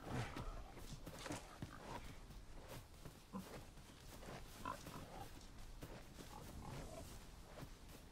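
Pigs oinking in the video game Dragon's Dogma 2, a string of faint, scattered grunts and snorts set against soft game ambience, with no voices.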